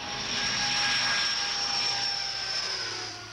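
A steady engine drone from a chartered aeroplane in 1970 holds throughout, a sustained high whine over a low rumble, fading slightly at the end.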